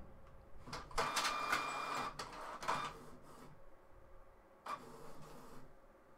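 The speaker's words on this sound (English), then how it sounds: "It's still doing something. Right, okay, so while it's printing" A printer works through a document sent from a Samsung DeX setup, giving bursts of mechanical whirring and feeding clatter separated by short pauses, close and moderately loud.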